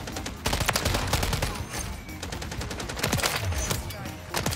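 Near-continuous gunfire fills a Modern Warfare 3 match on the small Shipment map, with dense overlapping shots and blasts including shotgun fire, loud and close throughout with no voices.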